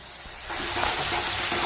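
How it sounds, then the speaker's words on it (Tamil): Tomatoes and onions sautéing in a clay pot for a sardine fish curry, a continuous sizzle that starts softer and grows louder and brighter after the first half second, with faint stirring beneath. "நல்லா தக்காளி வெங்காயம் நல்லா சுருள வதங்கட்டும்"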